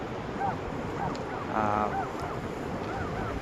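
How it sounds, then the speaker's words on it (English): Strong wind at Oceanside Beach on the Oregon coast buffets the microphone with a steady roar over distant surf, while a person speaks briefly. "Whew, it's windy"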